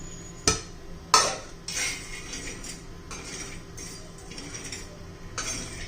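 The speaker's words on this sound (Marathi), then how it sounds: "बडीशेप, जिरं, मेथी दाणे, धने आणि शेंगदाणे आपण हे सर्व भाजून घेणार आहोत" Fennel, cumin, fenugreek seeds, coriander and peanuts dry roasting on a hot tawa, with two sharp metallic clinks early on, then steady soft scraping and rattling of the seeds being stirred, close and moderately quiet.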